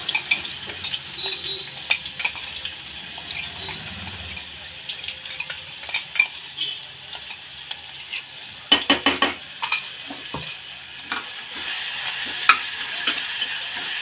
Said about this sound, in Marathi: आता या तेलामध्ये थोडीशी कोथिंबीर आणि लगेच हे वाटण टाकायचं आहे